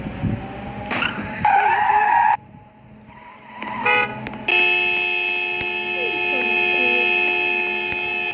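Car driven in the Roblox video game, with game-engine engine drone and steady tonal hum, brief bursts of skid-like noise and a horn-like toot early on, continuing fairly loud through the clip without talk.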